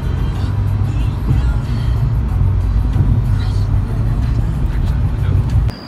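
A car drives through downtown Cleveland streets between tall buildings, giving a steady, loud low road rumble and engine drone throughout with faint traffic wash above.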